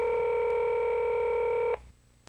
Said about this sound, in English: you can call it up by pressing Recall and Pound